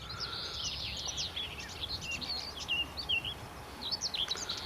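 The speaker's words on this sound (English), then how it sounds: "Birds singing in the trees and the bushes, very nice." Several birds sing in trees and bushes on a farm park in West Somerset, bright repeated chirps and warbles rising over a low outdoor background, fairly near and clear, with no one speaking.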